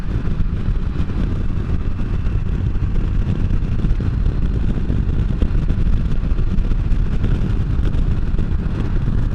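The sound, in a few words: 2015 Can-Am Spyder F3 riding down a road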